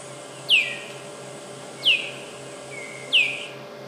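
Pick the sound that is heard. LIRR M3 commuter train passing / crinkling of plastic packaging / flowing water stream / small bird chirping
small bird chirping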